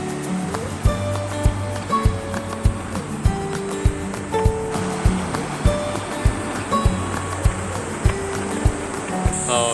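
Water flowing in a mountain valley stream at a riverside campsite, a continuous broad rushing wash with steady rhythmic knocks running through it, and no talk.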